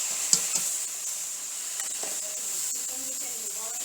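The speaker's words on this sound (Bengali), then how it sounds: "কড়ার মধ্যে হিংচে শাকটা ঢেলে দেবো।" Hinchha greens hit a hot wok with a steady, bright sizzling hiss that stays even throughout, with a couple of soft knocks near the start and no clear speech.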